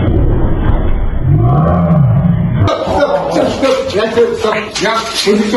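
An attack-trained dog gives a low, sustained growl for a couple of seconds, then a man issues short training commands while faint scuffling continues.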